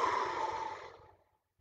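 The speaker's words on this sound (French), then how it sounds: "vous prenez une grande respiration" One deep, breathy exhale during a guided breathing exercise, close and soft, tapering into silence over about a second.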